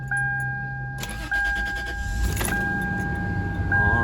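A car engine cranks and catches after an O2 sensor replacement, then settles into a steady, even idle with a faint whine running through it. No one speaks.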